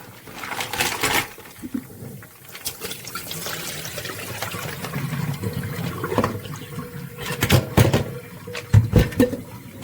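Cold tap water runs over fresh mussels being rinsed and debearded in a kitchen, a steady close splashing stream with irregular louder gushes and clatter of shells, no talking.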